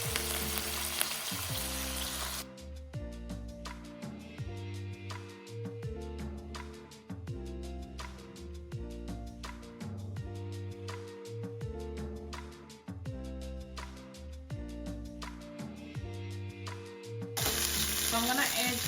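Chicken sizzles in a pan for Marry Me Chicken with tomato pesto, a broad frying hiss at the start and end with music filling the long middle stretch.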